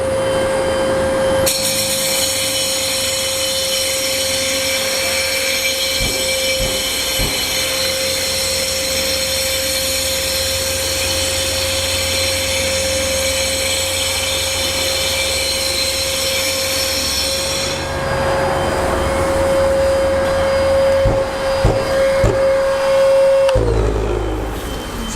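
A concrete floor grinder runs with a dust extractor vacuum, giving a loud steady motor drone with a constant high whine and gritty grinding over the surface, ending with the motor winding down.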